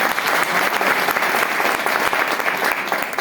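Loud, dense applause from an audience at an online business meeting in Jaunpur, a steady wash of many hands clapping throughout with no pauses or speech.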